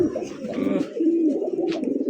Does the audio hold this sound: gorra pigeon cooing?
yes